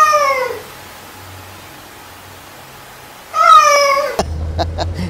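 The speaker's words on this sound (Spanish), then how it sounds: "gato de tienda?" A shop cat in Pereira, out by a roundabout on the way to the airport, gives two clear, close meows, one at the start and another near the end, followed by a low rumble of passing traffic.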